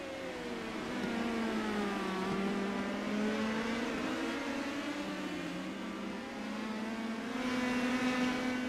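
Indy Pro 2000 race car engines on the Indianapolis Road Course in iRacing, a sustained high droning whine that rises and falls with gear changes, several cars layered together at steady volume without talk.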